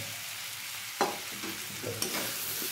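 Cumin and ginger sizzle steadily in hot oil while a spoon scrapes and stirs the pan, with a couple of sharper clanks against the metal.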